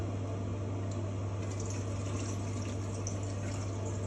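A urine specimen being poured away at a lab bench, steady liquid flow running unbroken for several seconds under a constant low electrical hum.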